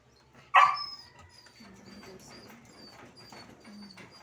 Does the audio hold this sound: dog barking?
yes